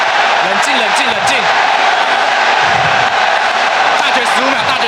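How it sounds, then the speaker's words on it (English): A large esports arena crowd roars and cheers for AHQ at the League of Legends Worlds group stage, a dense continuous wall of crowd noise with excited commentary voices over it. "This crowd is lighting up and ready for AHQ to take a victory"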